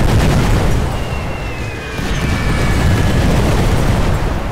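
Hand grenades detonating in The Great War, a World War I strategy game, thrown at cavalry: a dense, continuous low rumble of booms and muffled blasts, fairly loud throughout, with no distinct single explosions standing out.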